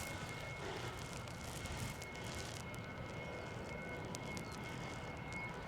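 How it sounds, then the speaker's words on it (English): A faint, steady engine drone hums continuously in the distance with a broad hiss and no talking. "I can hear something that sounds suspiciously like an engine running at idle"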